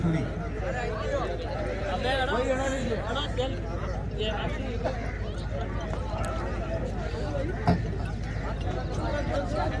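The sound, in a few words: horse hooves clip-clopping at a horse show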